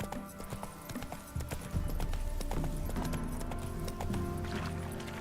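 Horse hooves clip-clop in a steady galloping rhythm while riding in The Witcher 3 video game, close and continuous over background game music throughout.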